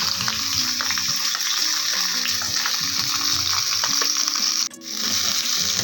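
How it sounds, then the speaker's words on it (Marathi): Tomatoes frying in oil in a pan: steady, loud sizzling hiss filling the whole stretch, with a brief dip near the end as the food is stirred, and no talk over it. "दोन ते तीन मिनटं तेलामध्ये हे टोमॅटो फ्राय करून घ्यायचे म्हणजेच परतून घ्यायचे"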